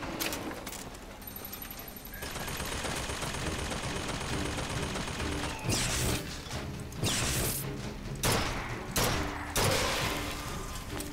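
Gunfire in the video game BioShock Infinite: dense bursts of rapid shots and crashing impacts with mechanical clatter, followed by several distinct loud blasts spaced a second or two apart, no talk.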